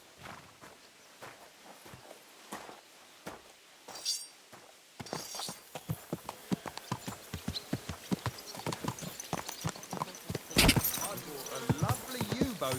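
Horse hooves clip-clop steadily on a road in Kingdom Come: Deliverance II, a quiet start giving way to a sharp, regular walking rhythm close by, with a brief louder clatter near the end.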